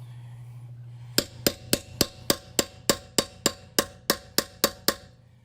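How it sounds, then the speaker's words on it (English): A hammer strikes a 22-point star socket down onto a Mopar/McGard locking wheel nut, making about a dozen sharp, ringing metallic blows in a steady rhythm at close range. "kind of hammer and angle it down so you get it all the way around it"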